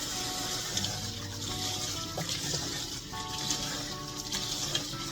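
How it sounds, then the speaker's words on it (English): Tap water runs steadily from a kitchen faucet over vegetables in a sink, a continuous splashing and spattering wash with small clinks and knocks, heard close and alone. "I've got them in the counter and water's running over them, running out."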